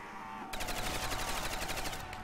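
Rapid automatic gunfire in Call of Duty Zombies on a custom pirate ship map, a steady burst of quick shots running for about a second and a half, fairly close and loud, then stopping.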